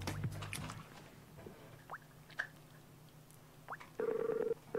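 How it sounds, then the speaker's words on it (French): Telephone keypad dialing a call to a hotel in Lille: a short run of spaced touch-tone beeps in a quiet room, ending in a steady, louder tone near the end. "On rappelle Lille. Allez, on les rappelle."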